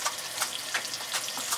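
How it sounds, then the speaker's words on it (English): A tap runs at a sink during a face-washing routine, a faint, even hiss of water with soft splashing pulses and nothing else over it. "The only problem is the water is still running"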